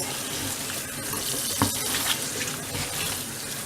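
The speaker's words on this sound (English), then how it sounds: "we was running water on them to get them clean" Tap water runs steadily in a continuous gush over cabbages, a close, even splashing hiss with faint clatters.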